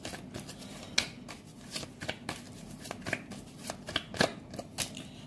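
A deck of tarot cards shuffled by hand in a quiet room, giving a run of crisp riffling bursts and soft flicks at an uneven rhythm, close and fairly quiet, with no talking.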